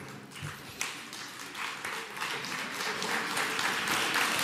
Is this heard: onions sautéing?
no